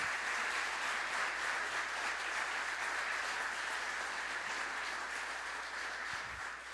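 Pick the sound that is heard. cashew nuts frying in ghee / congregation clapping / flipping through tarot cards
congregation clapping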